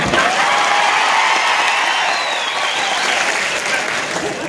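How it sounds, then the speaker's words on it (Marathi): Loud, sustained applause from a large crowd at a student career guidance event, steady clapping throughout that eases slightly toward the end. "आणि आता जोरदार टाळ्या होत्या माझ्यासाठी"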